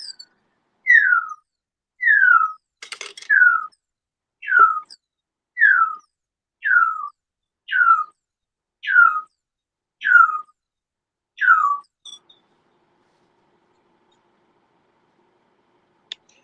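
A caged bird repeats about ten bright descending whistled chirps at a steady pace, each clearly separated, close and loud against a quiet room, with one brief rustling burst among them and silence at the end.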